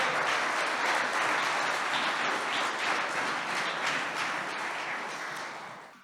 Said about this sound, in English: Clap if you know that.